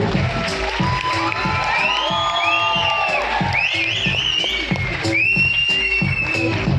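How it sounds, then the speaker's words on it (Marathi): A crowd at a Marathi TV serial baby-shower celebration cheers, whoops and whistles loudly, with repeated rhythmic thumps underneath and sliding whistles rising over a continuous, dense roar of voices. "टाळ्या शिट्ट्या इव इव झाला पाहिजे जोरात"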